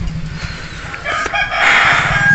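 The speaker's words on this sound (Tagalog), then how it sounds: "Mabait yan, napakabait na ibon yan ni Romano." A rooster crows loudly and close by, one drawn-out call rising and holding to the end, with faint clucking before it.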